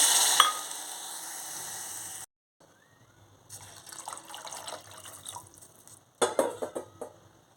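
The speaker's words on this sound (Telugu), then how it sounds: "వాటర్ వేసేసుకుంటున్నాను 3 కప్పులు." Water runs steadily from a tap, then after a brief gap three cups pour and splash unevenly into a pot for payasam, ending with a louder gush; no talking.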